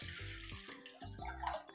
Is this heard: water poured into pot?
yes